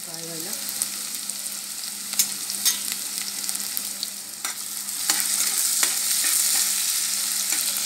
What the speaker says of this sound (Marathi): कांदा चांगला फ्राय करायचा, थोडं मीठ घालायचं कांद्यामध्ये चांगला फ्राय व्हायला